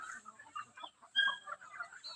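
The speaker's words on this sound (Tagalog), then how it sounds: "sumusunod ang mga alaga niyang mga manok" Pet chickens on a farm clucking in short, scattered bursts, with one slightly louder call near the middle, close by and with no talking over them.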